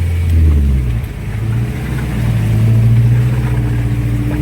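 A car engine pulls away gently under light throttle, a steady low hum that rises slightly and holds, close and fairly loud with no talking.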